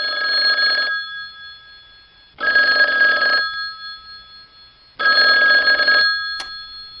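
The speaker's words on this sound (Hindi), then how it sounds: "अचानक फोन की घंटी बजी।" An old-style telephone bell rings in three long bursts with silent gaps between them, loud and close in an otherwise quiet room.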